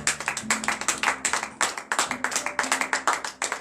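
Steady applause from a church congregation at a morning prayer service, many hands clapping in a dense, continuous patter with slight swells, heard alone without voices.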